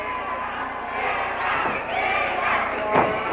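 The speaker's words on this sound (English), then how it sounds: "The crowd now chanting Chiva, Chiva." A wrestling arena crowd at an AAA show in Austin, Texas, chants together in a loud, sustained roar that swells and holds for several seconds.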